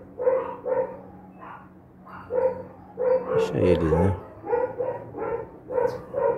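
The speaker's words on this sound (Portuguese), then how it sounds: "Os cachorros é tradicional aqui já" Dogs bark in a few short, loud bursts mixed in with a person talking nearby.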